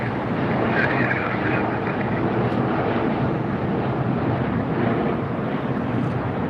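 Steady broadband roar of a Norse Atlantic Airways heavy jet taxiing at LAX, heard from a distance with constant wind noise on the microphone and no voices.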